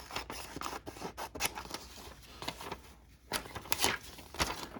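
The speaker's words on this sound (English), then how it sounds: "I want to cut out that word superpower" Scissors snip a word out of a glossy magazine page, a close series of quick crisp cuts with short pauses and light paper rustle, no talking.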